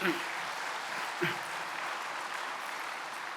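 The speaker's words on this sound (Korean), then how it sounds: "박수 한번 부탁을 드리겠습니다" Audience applause at an evening church winter camp service following a choir's hymn, a soft, steady wash of clapping from a large hall with a couple of brief knocks.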